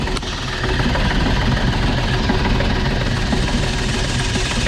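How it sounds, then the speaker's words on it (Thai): A cold Nissan Big M pickup truck engine idles steadily close by, a continuous low rumble with even mechanical texture throughout and no talking. "ก็เครื่องยนต์ยังเย็นอยู่นะครับ"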